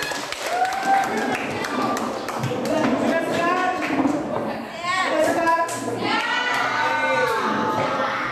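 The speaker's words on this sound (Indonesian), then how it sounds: "tepuk tangan buat semuanya" Group clapping in an Indonesian classroom after a team activity, a dense patter of many hands mixed with children's chatter and voices throughout.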